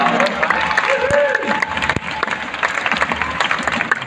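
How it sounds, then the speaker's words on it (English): An audience at a zoo crocodile show claps in a brief burst that thins and fades after a few seconds. A presenter's voice is heard at the start. "A round of applause for Chandler."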